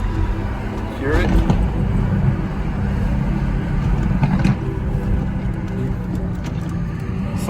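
A Mercedes C63S engine rumbles and revs steadily in the background, a deep continuous drone with a few swells, heard at moderate distance under wind or road noise.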